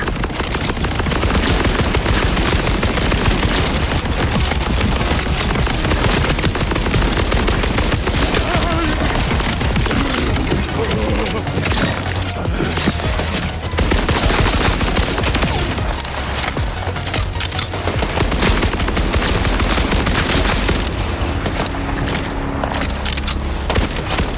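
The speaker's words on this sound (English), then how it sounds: "Now shoot the locking mechanism!" Sustained loud automatic gunfire in Borderlands 4, aimed at a locking mechanism during a boss fight, a relentless fusillade of rapid shots and booms running through the whole stretch with occasional voices beneath.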